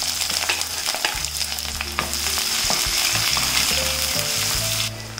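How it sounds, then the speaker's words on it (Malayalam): Chopped onions sautéing in coconut oil with dry red chillies and mustard seeds, a loud, steady sizzle broken by stirring scrapes and clatters, close up, and the sizzle drops off just before the end. "ഇനി നമുക്കിതിലേക്ക് ഈ കട്ട് ചെയ്ത് വെച്ചിരിക്കുന്ന സവാള ഇട്ടൊന്ന് വഴക്കി കൊടുക്കാം."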